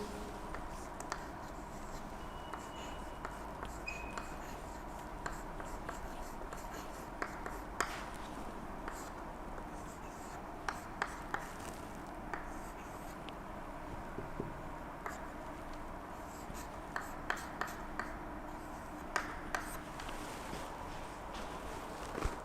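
Writing on a board during a lecture: faint scratches and sharp little taps scattered across a hushed room with a steady background hum, no speech.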